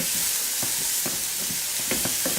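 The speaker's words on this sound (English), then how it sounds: "you should be able to hear it sizzle" Garlic sizzles steadily in a hot pan while vegan bean burgers are being made, a dense continuous hiss with a few sharper crackles and pops scattered throughout, close and fairly loud, with no talking.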